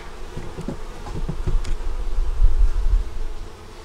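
Honeybees buzz in a low, continuous drone inside a deep eight-frame hive, close and steady, swelling slightly in the middle with faint handling knocks.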